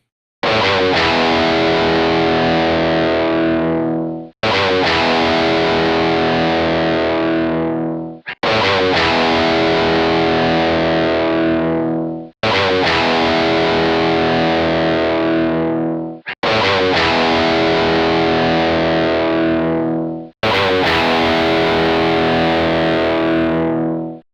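Heavily distorted electric guitar chords through an amp modeler, struck six times in a row, each ringing out and decaying before the next hit, loud with no voices.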